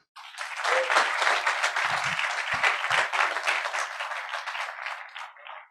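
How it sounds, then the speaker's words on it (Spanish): An audience at a finance talk in Arauco gives a warm round of applause for the incoming speaker, Marcelo Benett; dense, even clapping starts abruptly and carries on steadily, with a few low bumps, before tapering off. "Un gran aplauso para él."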